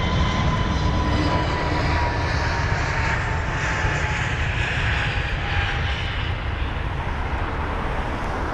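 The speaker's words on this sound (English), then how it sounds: "That 320 Neo absolutely rocketing out, amazing stuff." An Airbus A320neo taking off from London Heathrow, a sustained powerful jet roar with a faint high engine tone running through it, steady and loud from start to finish, with no talk.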